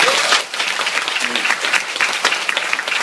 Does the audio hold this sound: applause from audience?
yes